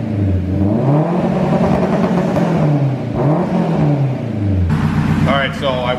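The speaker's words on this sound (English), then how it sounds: "I welded a piece of 3-inch pipe in place of the muffler." A turbocharged K24 Integra with a 3-inch straight pipe in place of the muffler revs hard, its loud raspy exhaust rising and falling in pitch twice before a voice briefly breaks in near the end.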